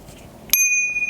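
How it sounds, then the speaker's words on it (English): A small bell rung once to signal the end of conversation time in a masterclass room: a single bright, clear ding that rings on and slowly fades after a quiet moment. "we will ring this lovely bell right here"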